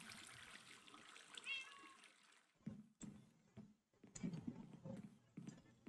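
A house cat meows in a quiet indoor room, a few short rising calls near the start, with trickling water and scattered clattering household sounds nearby.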